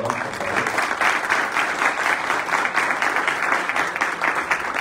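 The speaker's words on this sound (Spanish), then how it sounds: "Un aplauso para la contadora, por favor." An audience at a book presentation and press conference gives sustained, dense applause, loud and close, rolling on without pause for the whole stretch.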